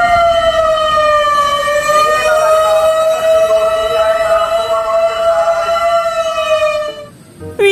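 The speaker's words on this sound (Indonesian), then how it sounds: "Ini mobil pemadam kebakaran ya." Toy fire truck siren giving a loud, close, continuous electronic wail that holds a steady pitch for about seven seconds, then cuts off into a brief clatter.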